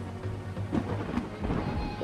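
Thunderstorm ambience in the Pokemon Brick Bronze video game, a low rumbling roll of thunder with steady rain hiss, moderately loud and continuous over a couple of seconds.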